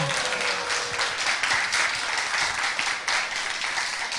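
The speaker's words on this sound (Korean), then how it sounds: "박수 한번 주세요" Audience applause at a Korean poetry talk event honouring an award-winning poet, a dense, steady wash of many hands clapping that fills the whole stretch at moderate loudness, with a brief voice at the start.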